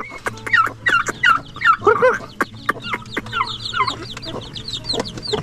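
A flock of chickens with their chicks on a farm, with repeated clucks and sharp peeps coming close and loud in quick overlapping bursts, with no talking.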